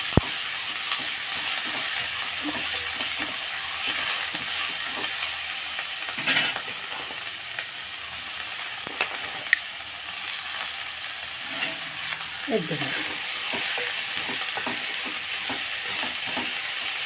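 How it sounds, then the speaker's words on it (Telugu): Grated cabbage fries in a pan for a cabbage and coconut curry, giving a steady, close sizzle with occasional stirring scrapes over about seventeen seconds, with no talking. "క్యాబేజీ తురుము మనం ఇందులో వేసేసుకోవాలన్నమాట అండి దీన్ని బాగా వేపుకోవాలి పచ్చివాసం పోయేదాకా వేపుకొని"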